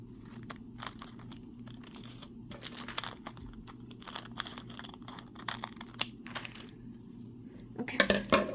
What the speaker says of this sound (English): I'm gonna cut open both of the bags